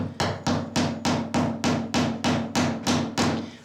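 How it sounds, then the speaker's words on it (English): Eleven evenly spaced, sharp hammer blows drive a nail into plywood, each strike close and crisp with a short ringing decay. "I'm not setting the nail all the way through the plywood."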